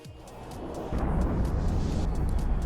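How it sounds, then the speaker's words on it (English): Spaceship explosions in the EVE Online video game, a low rumbling blast that swells after about a second and keeps roaring steadily to the end, with no talk. "those rings do make nice explosions"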